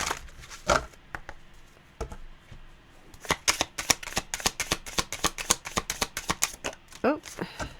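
A deck of cards riffled and shuffled to draw a Musashi card, with rapid, close crisp flicks in a steady run after a few early snaps. A voice speaks briefly.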